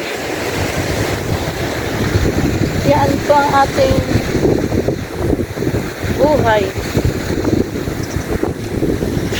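Wind and sea waves along a coastline during a rainy spell, with water near a flooded road, sound as a steady rushing roar with gusty buffeting on the microphone under a voice talking throughout.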